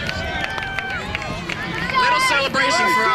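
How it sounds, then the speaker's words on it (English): Crowd cheering and shouting at a college dodgeball match involving RIT, a dense indoor roar of many voices that swells louder toward the end, with a commentator talking over it. "They're cheering."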